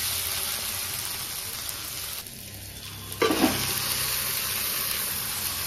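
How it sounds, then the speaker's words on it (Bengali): Goat meat goes into a pan of fried spice paste for mutton curry: a continuous frying hiss, a brief lull, then a louder burst of sizzle as the meat drops in, settling back to a steady crackle. "তো আমার ভাজা হয়ে গেছে, এবার আমি মাংসটা দিয়ে দেব।"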